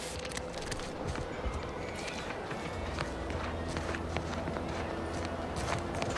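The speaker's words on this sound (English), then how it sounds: "distinction in our footstep sounds based on the ground that we're walking on" Footsteps from the game The Outer Worlds 2 patter quickly and evenly across the ground at running pace, a close, continuous trail of steps with faint background ambience.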